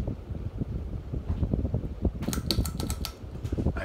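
A white Hunter Low Profile 52-inch ceiling fan runs with a steady airy whir, joined midway by a quick series of sharp clicking ticks.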